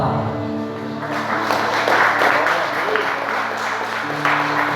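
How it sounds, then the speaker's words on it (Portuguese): A church congregation clapping hands together during a Portuguese-language worship service, a dense sustained round of applause lasting several seconds, loud and close, with a voice speaking over it. "Quem pode bater palmas por esta palavra?"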